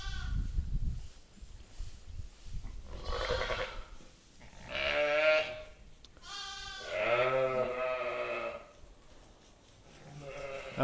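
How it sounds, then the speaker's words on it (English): Pregnant ewes in a pen waiting to lamb bleat repeatedly on a cold farm morning, several loud, close, wavering calls overlapping one another with brief rustling between them. "this is my pen of sheep still to lamb"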